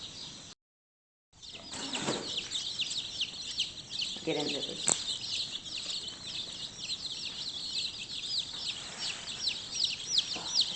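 Black Jersey Giant meat chickens clucking and calling in a large chicken tractor, a busy chorus of bird sounds close by, with people talking briefly in between.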